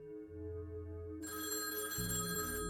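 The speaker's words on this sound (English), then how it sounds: "when his phone rang" Telephone bell ringing as a sound effect, a bright electronic trill that starts partway through over a low hum, then continues with a deeper tone joining it, with no voices.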